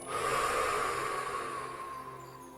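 A person slowly exhales breath out through the mouth during a morning guided meditation, a single long, soft airy whoosh, close to the mic, fading gradually with no speech.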